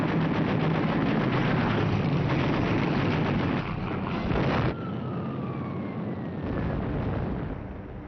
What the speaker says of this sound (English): The Americans returned fire